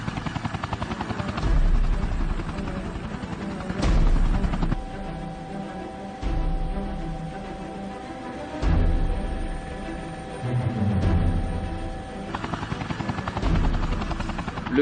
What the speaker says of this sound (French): Je suis toujours ravi de monter en hélicoptère, où que je sois.